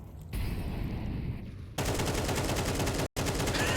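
Sustained automatic gunfire spam in Counter-Strike, a dense rattling stream of shots that grows louder midway and runs nearly nonstop with a brief gap near the end.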